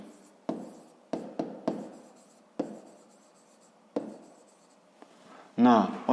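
Handwriting during a 5th-grade math lesson, pen or chalk strokes making several sharp, separate taps and scratches at an irregular pace, fairly close, with a louder burst of speech near the end.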